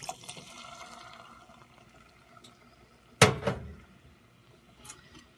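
Vinegar is poured into a pot holding peaches, with a short, sudden splash and slosh rising out of quiet kitchen room noise, then a few fainter knocks afterward.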